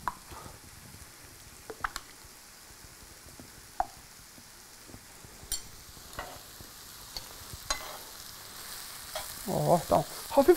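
Onions gently frying in a pot for a chicken soup base, a soft, steady sizzle broken by occasional scrapes and clacks of stirring, growing a little louder and busier at the very end.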